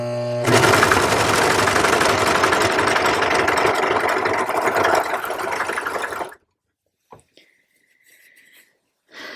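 Serger overlocking the edge of a reusable cloth paper towel, a loud fast mechanical whir running steadily for about six seconds before stopping, followed by quiet with a few small clicks and handling sounds.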